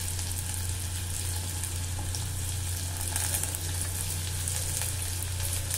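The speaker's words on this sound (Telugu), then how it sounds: "వేడైన ఆయిల్లో రెండు ఉల్లిపాయలను చాప్ చేసి వేసుకోండి." Chopped onions, green chillies and curry leaves frying in hot oil for a country chicken and drumstick curry. A constant sizzle crackles over a low steady hum, with occasional faint stirs and no speech.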